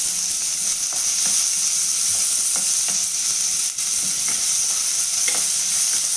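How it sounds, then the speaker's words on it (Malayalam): Onions sautéing over a high flame in a pan for green peas pulao give a loud, steady sizzle throughout, with faint scrapes of stirring and no talking. "ഉള്ളി വാട്ടുമ്പോൾ ഹൈ ഫ്ലെയിമിൽ വെച്ചാൽ മതി,"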